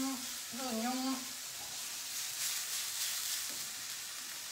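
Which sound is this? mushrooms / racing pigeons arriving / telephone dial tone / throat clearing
mushrooms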